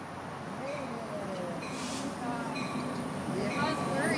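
A passenger train rumbles steadily along the rails toward Simi Valley, a continuous low rolling noise heard from inside the car, with a spoken announcement playing over it.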